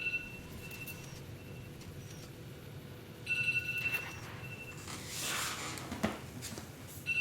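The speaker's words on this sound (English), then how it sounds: "Uh-oh, my phone is ringing." A phone rings faintly in a quiet room, a few short repeated electronic tones sounding over low background hiss, followed by a soft rustle.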